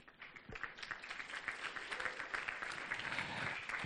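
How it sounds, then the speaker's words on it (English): Wedding guests at a reception applaud the newlyweds, a dense steady clapping from a crowd that starts quietly, swells and holds, heard faintly from a distance. "please have a round of applause for our newlyweds"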